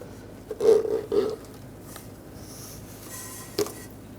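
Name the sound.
lubricated rubber bellow boot slid onto a Buick Encore steering rack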